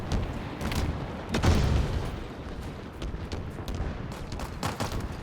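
Gunfire in Halo Infinite multiplayer, a continuous wash of mid-distance shots and booming impacts layered over busy battlefield rumble, with scattered sharper cracks throughout.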